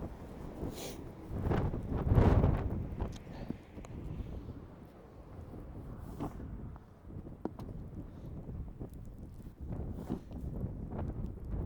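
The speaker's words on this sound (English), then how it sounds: "but it's windy as." Gusty wind buffets the microphone outdoors during snow shoveling in an unpaved alley, rising in a loud rumbling swell and then easing into a steady rushing background with scattered scraping knocks.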